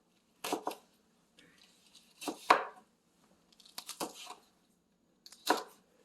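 A knife slices Cheongyang chili peppers on a board in four separate bursts of quick crisp chopping strokes, close and clear with quiet pauses between.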